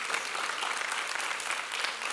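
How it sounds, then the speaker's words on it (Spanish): Church congregation applauding during a Spanish-language sermon, a steady wash of many hands clapping at moderate distance, even and sustained throughout with no talk over it. "Merece un aplauso eso."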